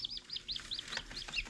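Newly hatched baby chicks, just out of the incubator, peep in a quick series of high, thin chirps, about seven or eight calls in a second and a half, fairly faint and close.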